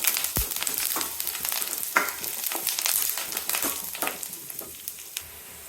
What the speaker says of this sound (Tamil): ஒரு 8 முந்திரி சேர்த்திக்கலாங்க. நல்லா கலந்து விட்டுட்டு வெங்காயம் நல்லா கோல்டன் ப்ரௌன் வரட்டுங்க.